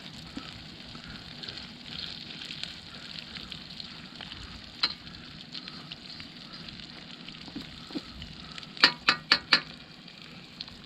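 Eggs fry in a wok over a campfire, a low continuous sizzle with crackling fire, capped by a quick run of four sharp metallic clinks near the end.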